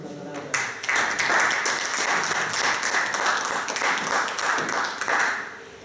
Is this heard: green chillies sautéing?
no